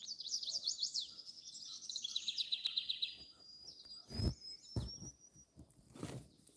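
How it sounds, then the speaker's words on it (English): Birds chirp and trill in a quiet outdoor setting, a rapid series of high tweets followed by a long thin whistle, with a few soft knocks and rustles after. "I left the bird sounds here."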